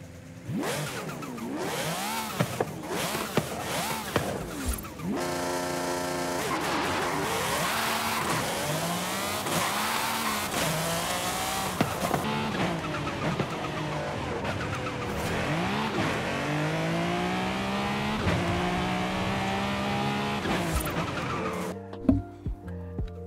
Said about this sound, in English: Damn, that V12 sounds good.